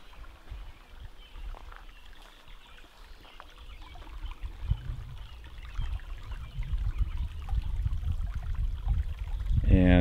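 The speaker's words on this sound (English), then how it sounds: "a little creek down here." A small creek gurgles and trickles steadily nearby at a campsite, growing louder toward the end, with a voice briefly audible at the close.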